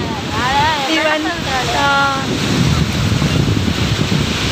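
Waves wash onto a beach where a canal meets the sea, a steady roar of surf mixed with wind buffeting the microphone, while people talk over it.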